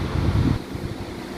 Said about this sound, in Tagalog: Sinarado ko na, nakakatakot yung hangin.